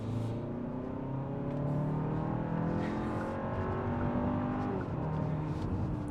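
A 2025 Hyundai Santa Fe with the 2.5 liter turbo engine accelerates hard. Its engine note climbs steadily through several rising sweeps, loud and continuous, with tire and road noise underneath and no talking.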